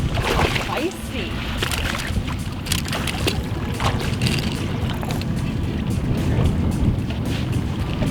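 Strong wind buffeting a fishing boat on a lake during summer walleye fishing, a loud continuous rushing roar with water sloshing against the hull, close and unbroken, with faint voices underneath.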